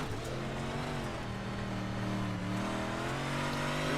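A 358 modified dirt race car engine in iRacing at Kokomo, a steady loud droning whine that dips briefly as the driver checks up, then builds again, with other cars' engines layered underneath.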